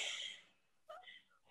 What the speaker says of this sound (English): I did sneeze.